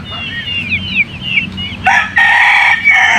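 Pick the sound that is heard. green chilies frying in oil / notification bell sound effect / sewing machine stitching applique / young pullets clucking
young pullets clucking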